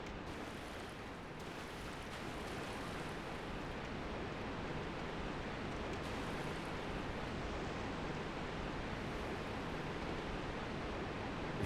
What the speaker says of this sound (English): We fall down into this other area down below, where the waterfall spills out onto.